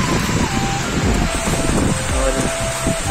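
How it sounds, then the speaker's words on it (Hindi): Heavy rain driven by strong wind pours down on a busy street where people run for cover and an auto-rickshaw waits, a dense, steady roar of water and gusts throughout. "बहुत ज्यादा बारिश हो रहा है स्पीड से"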